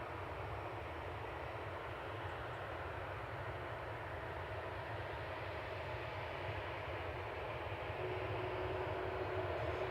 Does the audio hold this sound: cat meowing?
no